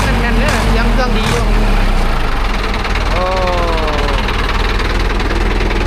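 A Ford 6610 tractor with a front dozer blade and rear disc plough idles steadily with a low, continuous mid-pitched engine drone, while people talk over it throughout.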